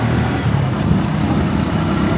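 Steady mid-pitched engine drone of a Gozem motorcycle taxi carrying a passenger through Lomé, heard up close and continuous with road noise and no talk.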